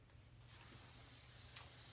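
Aerosol hair spray misted onto curly hair styled with a flat iron, a close, continuous hiss that starts suddenly and holds steadily for over a second.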